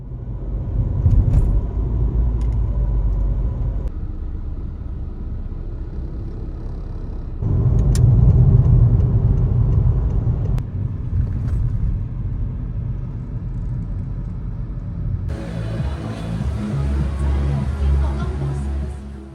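Engine rumble and road noise inside a car driving along, a steady low drone that shifts in level as the car moves, with no talking.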